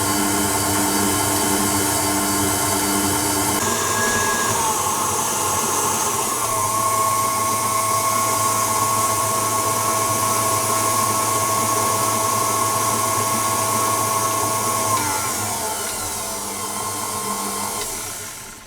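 An electric hand mixer whips eggs and vanilla into a thick, fluffy mixture for a Lazy Daisy cake, giving a loud, continuous motor whine that shifts pitch a few times and eases off slightly at the end.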